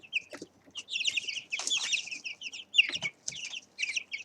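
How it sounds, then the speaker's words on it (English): Several two-week-old chicks peep high and busily in close overlapping chirps, mixed with a few lower, rougher clucking calls from their changing voices. "they are actually starting to make these low clucking noises"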